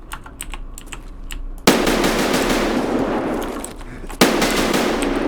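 Shotgun blasts in Escape From Tarkov, two loud close booms that each ring out in a long, noisy tail, following a patter of light clicks.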